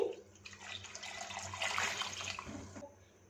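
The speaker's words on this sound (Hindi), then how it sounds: "इसमें इतना पानी डालेंगे कि आलू बिल्कुल डिप हो जाए" Water runs steadily from a tap into a pot of potatoes for about three seconds, a close, bright splashing stream that stops abruptly, with no one talking.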